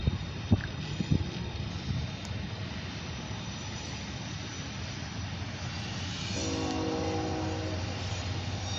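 A long freight train with boxcars rolls past with a low, continuous rumble and a few early knocks and clanks, steady and moderately distant, with a faint hum rising near the end.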